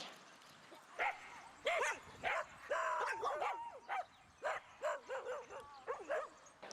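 A dog barks and yips repeatedly in short, uneven bursts, fairly close, with some whining pitch between barks and no talking.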